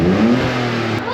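Car engine revving hard, a loud mid-pitched roar with rising and falling harmonic tones over about a second, close by and alone.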